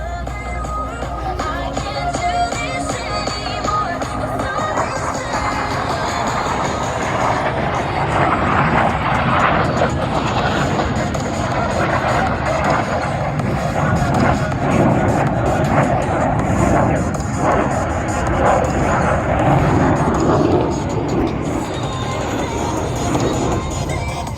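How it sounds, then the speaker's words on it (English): Blue Angels F-18 jets roaring continuously overhead at the 2025 Columbus airshow during an opposing inverted-to-inverted roll, a loud sustained broadband jet rumble with faint crowd noise beneath. "they will roll their aircraft 360 degrees over center point"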